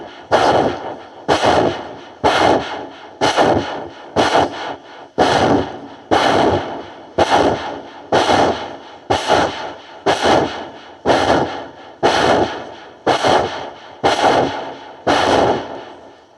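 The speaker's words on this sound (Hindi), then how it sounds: "सांस छोड़ने की आवाज आनी चाहिए, पेट को अंदर पहुंचाना है।" Forceful kapalbhati yoga exhalations are heard as a steady, rapid series of about seventeen loud, breathy bursts, roughly one each second, close to the microphone with no talk.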